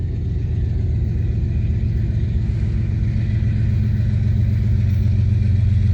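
A CN freight train led by GE Evolution locomotives passing, heard as a steady, loud low diesel rumble that holds without a break and grows slightly stronger toward the end.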